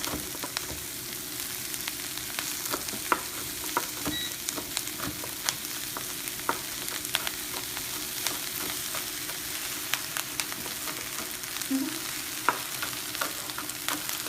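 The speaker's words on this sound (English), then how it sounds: "We're going to saute these for about 4 or so minutes just to get them nice and a little bit soft, but not mushy" Brussels sprouts with bacon and shallots sauté in a pan, giving a constant close sizzle full of small pops and crackles that runs unbroken and untouched by speech.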